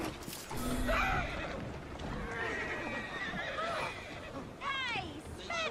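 Several horses whinny in bursts in the video game Assassin's Creed Syndicate, with a loud, shrill neigh near the end, over clattering hooves and a busy background of voices.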